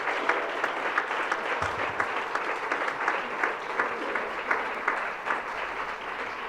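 Audience applause in a hall at a world congress on justice for children, a steady spread of many hands clapping for over six seconds, moderately loud with individual claps standing out.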